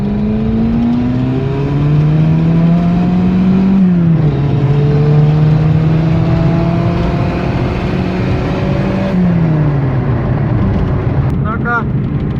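Turbocharged Renault Clio with raised boost pulling through the gears, its engine note climbing steadily with a shift near four seconds and another near nine, loud and close from inside the car throughout.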